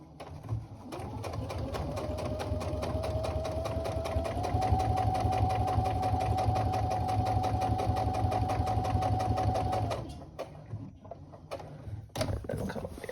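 A sewing machine stitches a tote bag seam in one steady, continuous run of rapid mechanical whirring for about ten seconds, then stops, followed by a few brief handling sounds.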